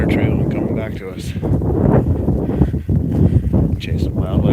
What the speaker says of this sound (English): Wow, it's windy. Got a little breeze coming through here.